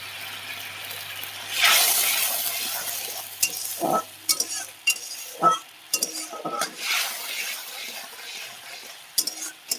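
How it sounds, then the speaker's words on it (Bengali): Ginger paste fried in a pan with a hot sizzle that surges at first, followed by uneven stirring strokes and occasional clinks of a spoon against the pan, close and fairly loud, with no talking. "তো আদাটা দিয়ে খানিকক্ষণ কষে নেব।"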